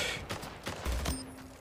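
A few sharp gunshots in a shooter video game, likely a sniper match, spaced apart in quick succession, fairly faint and close, without any talk over them.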